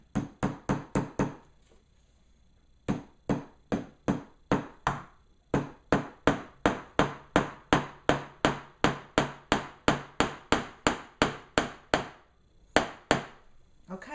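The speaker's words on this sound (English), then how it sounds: "You probably don't need a tutorial on how to hammer a nail." Steady hammering of nails into an old chair being reupholstered, sharp close blows in quick runs with brief pauses between sets, continuing for a while with no talking.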